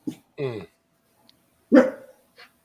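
Dog barking nearby, a few loud, separate barks with pauses between them, the middle bark longest, alone without talking.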